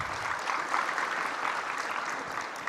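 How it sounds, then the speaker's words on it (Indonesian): An audience applauds at a speech about Indonesia's gold reserves and economic growth: continuous, dense clapping from a crowd, steady and moderately loud throughout. "Jangan cepat tepuk tangan."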